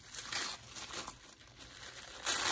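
Tissue or wax paper crinkles as a package is unwrapped close by, with irregular bursts of crackling rustle and a loud final crumple, no talking.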